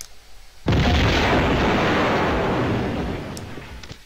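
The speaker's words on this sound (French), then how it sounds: "Petit coup de grenade." A grenade goes off in Tomb Raider 2 with a sudden, loud, broad blast. The roar hangs on for a few seconds and slowly fades, with no talk.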